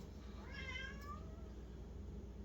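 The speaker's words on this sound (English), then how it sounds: "Cat's on the floor." A cat on a kitchen floor gives one faint, drawn-out meow, heard briefly over a steady low background hum.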